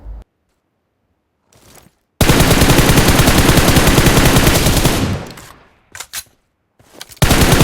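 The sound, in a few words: gunfire in a battle royale video game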